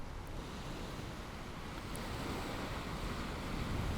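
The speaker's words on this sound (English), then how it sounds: "listening to the sounds of the ocean" Ocean waves washing in a continuous low roar, steady and fairly faint with a soft windy hiss, swelling slightly toward the end with no voices present.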